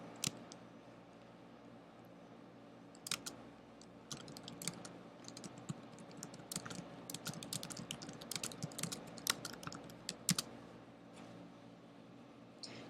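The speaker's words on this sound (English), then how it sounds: "and start typing your story" Fingers type steadily on a computer keyboard, with quick, irregular bursts of clear key clicks growing busier partway through and continuing alone without any voices.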